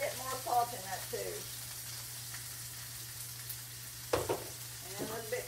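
Liver and onions sizzle steadily in a frying pan, a constant broadband hiss with a low hum underneath, broken by brief bursts of nearby talk at the start and end and a clatter of stirring near the four-second mark.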